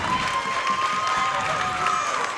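A basketball crowd at a Holy Spirit versus Pleasantville game gives a standing ovation, with steady clapping and cheering filling the gym at a constant loud level.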